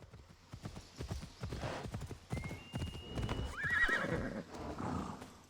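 A horse in the Assassin's Creed Odyssey video game clip-clops along at a walk, then lets out a clear neigh, with light talk over the hoofbeats.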